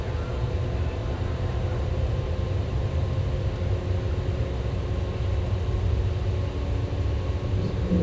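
Fortune-class fleet carrier frame shift drive powering up for a jump in a video game, a steady deep rumbling drone with a constant hum running evenly throughout.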